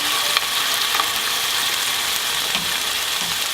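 Salmon sizzling on a grill, with a steady, close, even hiss of frying running throughout and a few faint clicks, no voices.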